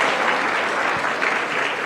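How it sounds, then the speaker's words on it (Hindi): Dense, loud audience applause at the NDTV Yuva 2025 event, a steady wash of many clapping hands with no break. "एक बार तालियां बनती है"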